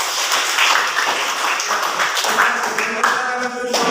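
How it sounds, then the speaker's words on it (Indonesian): A school class claps their hands together in a classroom, a steady, fairly loud patter of many small hands with voices mixed in toward the end. "Oke, tepuk tangan semua dulu."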